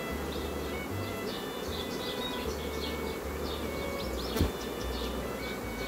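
Honey bees from a queenless natural swarm buzz steadily at close range during a hive transfer, a dense continuous drone with a low motor-like hum underneath and faint chirps above.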